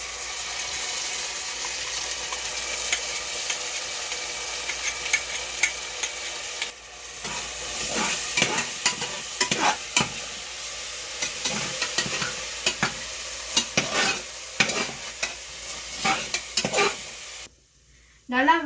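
Ground masala paste sautés with onions in a pan, a steady sizzle broken by frequent scraping stirs of a spatula. The stirs come faster and louder in the second half, then stop in a brief silence near the end.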